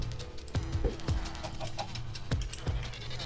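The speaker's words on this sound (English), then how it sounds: "Is it just a chicken?" Chicken clucking on a farm in a Minecraft-style video game, several short soft clucks and clicks scattered irregularly over a faint background, close by and alone.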